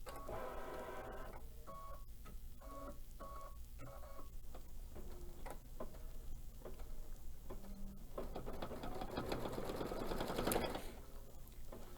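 A sewing machine stitches in quick bursts with frequent starts and stops, filling in small pieces of an elegant tree design on a quilt; the rapid mechanical whirring comes up close and fairly quiet, broken by brief pauses.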